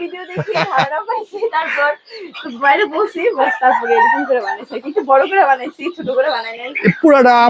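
Native chickens at a poultry farm cluck and crow close by, their calls mixed in with near, loud talking that carries on throughout.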